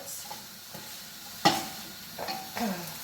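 Cooked butter beans and cabbage stirred in a pan, Jamaican style: soft scraping strokes over a faint sizzle, with one sharp utensil clack near the middle and two more scrapes after.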